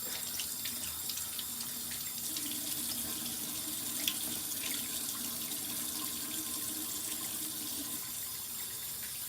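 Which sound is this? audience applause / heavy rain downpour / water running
water running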